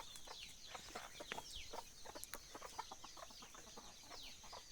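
Free-range flock of hens and small chicks in a shaded coop, soft overlapping clucks and high peeping chirps repeating steadily at close range, with no voices.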